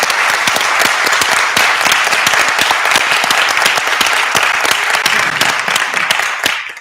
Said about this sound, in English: So one last round of applause for everyone,